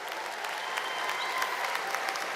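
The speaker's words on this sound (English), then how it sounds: "Let's give another round of applause for our university choir." A commencement crowd claps steadily for a university choir, a dense even wash of applause at moderate volume throughout.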